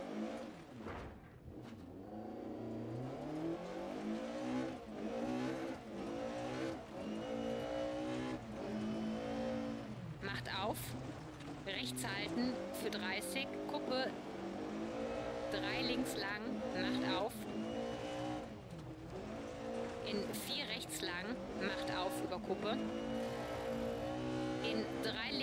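A rally car in Dirt Rally 2.0 roars through a stage, its engine revving up and down continuously with gear changes and occasional tire scrabble, loud and close, while a voice talks over it.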